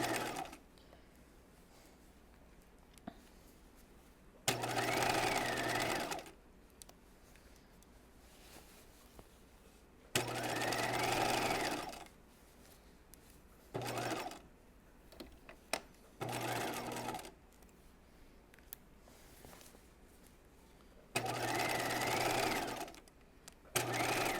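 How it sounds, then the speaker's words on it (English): A sewing machine stitches a 5/8-inch seam on a raglan top, running in about six loud, steady whirring bursts of one to two seconds each, separated by quiet pauses. "I'm just going to continue sewing using my regular seam allowance, 5/8 of an inch"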